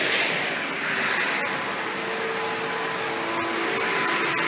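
An MLT830 tunnel tote washer runs loudly with its conveyor pushing totes through, making a dense, constant roaring hiss with faint clunks and no talking.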